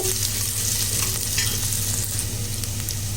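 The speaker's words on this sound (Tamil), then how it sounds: "இது இப்போ நல்லா வெங்காயம் வதங்கிடுச்சு" Onions frying in a clay pot, a steady close sizzle with low background hum and occasional stirring scrapes, no talking.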